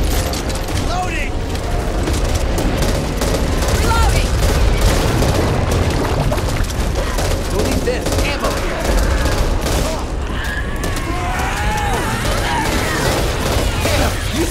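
Rapid bursts of gunfire and booming shots from the zombie shooter game Back 4 Blood fill the scene nonstop, loud and dense, with players' voices calling out over the chaotic combat.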